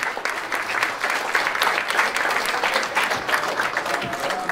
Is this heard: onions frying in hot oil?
no